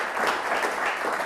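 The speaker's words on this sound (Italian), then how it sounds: "facciamo un applauso a Michele Cupitò" Studio audience applauding on an Italian television quiz show, a steady broadband wash of clapping that holds evenly through the short moment with no talk over it.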